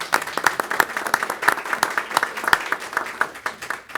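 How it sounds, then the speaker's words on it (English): A board meeting audience applauds a local community champion, a steady, fairly close round of clapping with sharp individual claps standing out, filling the whole moment with no talk over it. "So I'd like to give her a round of applause."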